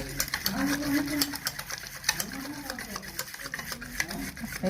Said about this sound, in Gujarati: 3 થી 4 મિનિટ સુધી આ રીતે હલાવતા રહીશું।